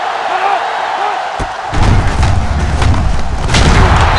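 A football player tackled hard in the NCAA 06 video game, a sudden heavy thud followed by loud crowd and field roar, with game commentary voices talking over it.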